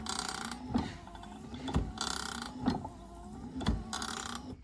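A newly installed wiper arm on a Ram pickup creaks and grinds in a regular back-and-forth rhythm, about one sweep per second, close and fairly loud, with no talk over it.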